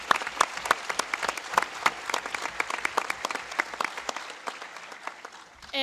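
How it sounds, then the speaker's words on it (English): Steady applause for a student show at a Board of Education meeting: many hands clapping in a dense, even patter that thins slightly toward the end, with no talk over it. "they deserve a huge, huge round of applause"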